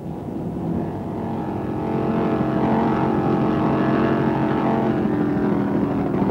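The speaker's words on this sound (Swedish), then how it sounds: "sticker iväg snabbast i starten i sin helt nybyggda båt med V8 inombordsmotor" A newly built racing motorboat with a roughly 700-horsepower V8 inboard engine roars from a distance at a race start, building in intensity as it pulls away, a steady deep drone.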